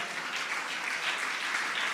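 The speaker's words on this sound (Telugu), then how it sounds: "చప్పట్లు కొడుతూ ప్రభుని ఘనపరచండి" A church congregation claps in praise during a fasting prayer service, a dense, continuous wash of many hands clapping together, steady and even for the whole stretch.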